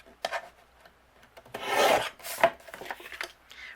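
Scissors cut a quarter-inch strip of yellow cardstock in a few short, close, crisp snips, with quiet pauses between the strokes.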